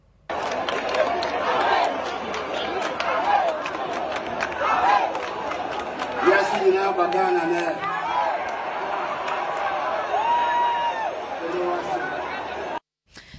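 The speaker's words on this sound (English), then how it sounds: "They're booing the president during his speech." At the Global Citizen Festival in Ghana, a large outdoor crowd loudly boos and jeers the president during his speech, a continuous roar with scattered shouts while a voice speaks over it.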